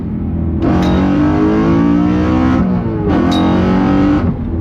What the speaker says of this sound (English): a kind of loud exhaust, I mean, this thing cruises super nice